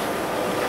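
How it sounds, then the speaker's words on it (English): Steady rumbling of a moving train, a continuous dense rolling noise with no voices, fairly loud and close. "Look at this train."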